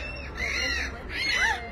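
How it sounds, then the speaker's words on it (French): Seagulls calling by the sea, two drawn-out, wavering cries rising and falling over steady background noise, fairly close and clear. "Ah, les mouettes, on est à la mer, là."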